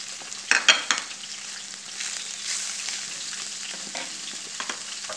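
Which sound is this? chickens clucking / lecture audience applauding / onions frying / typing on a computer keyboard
onions frying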